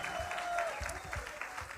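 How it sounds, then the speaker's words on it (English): Audience applause at a live-streamed theatre awards ceremony follows an opera duet from Don Giovanni. It is a faint, steady patter of many hands heard from a distance, with a thin sustained tone running through it. "An even bigger round of applause, please, for Nonhlanhla Yende and Sakiwe Mkhosana."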